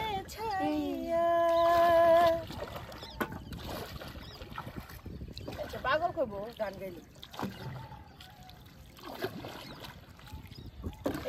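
A rowboat moving along a river, its faint water noise continuous under nearby chatter and a short stretch of singing, with wind now and then.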